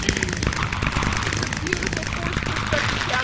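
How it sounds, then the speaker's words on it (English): Rapid crackling bursts of video-game fireworks popping in a dense, continuous barrage, loud and close, with a voice talking over them. "I just have to turn down my fireworks noises."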